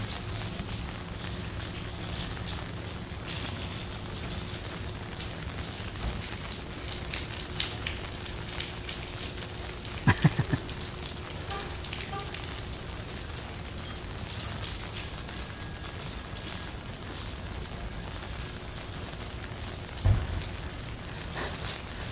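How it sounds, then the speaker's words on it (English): Steady rain and running water falling outside, a continuous soft hiss that fills the background, broken by a couple of brief knocks close by. "you can hear the rain and the water coming down."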